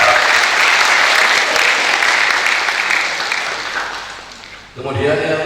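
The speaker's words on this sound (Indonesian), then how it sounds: "Tepuk tangan untuk teman-teman semua" A law school graduation ceremony audience applauds loudly and continuously, the clapping thinning toward the end before a voice begins speaking over a microphone.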